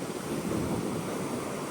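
Ocean surf washing onto a beach, a steady broad roar of breaking water with some wind buffeting the microphone, continuous and fairly loud with no speech.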